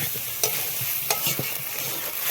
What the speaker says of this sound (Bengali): এবার ভালো করে কষিয়ে নিতে হবে বন্ধুরা।